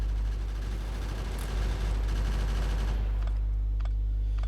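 Gun turrets fire rapidly and continuously in the Factorio video game, a dense stream of shots over a low, steady drone, fading out near the end.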